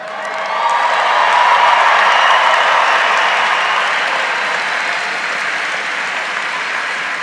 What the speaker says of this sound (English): Please join me in one more round of applause for our Winter 2024 graduates.